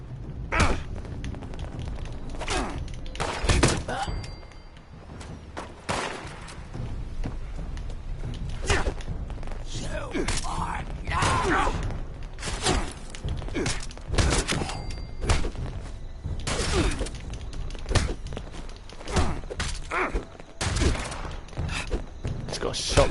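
Shotgun fire in the post-apocalyptic shooter Fallout 76, a long barrage of loud, sharp blasts and thuds, some in quick bursts, others spaced apart, with a voice speaking intermittently between shots.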